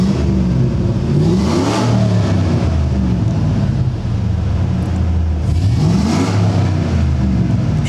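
A GMC Sierra 1500 Custom pickup truck engine runs steadily and loudly close by, its pitch rising twice as it revs, with no talking.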